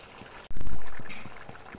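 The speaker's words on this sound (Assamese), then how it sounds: "এতিয়া প্ৰায় 10 মিনিট সময় উতলিবলৈ দিম" Fish curry with star fruit bubbling in a pot, a steady close simmer that swells loudly after a brief stirring knock and then settles into gentle continuous boiling.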